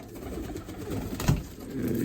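Soft coos from young tumbler pigeons murmur close by over a low, steady background rumble, with one slightly louder coo near the middle.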